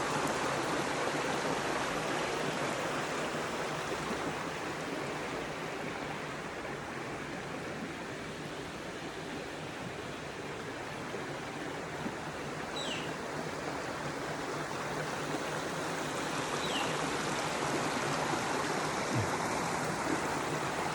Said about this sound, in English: the beauty of this wonderful